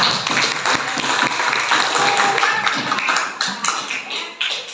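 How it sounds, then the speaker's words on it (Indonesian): A classroom of students applauding together, dense continuous clapping at a steady level that thins and tapers off near the end. "Boleh tepuk tangan buat kita semua."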